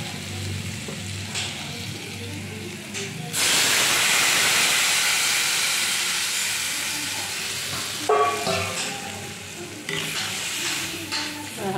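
Water poured into a hot pan of potatoes fried with turmeric erupts into a loud, steady hiss that slowly fades, followed by clattering of a utensil and lid.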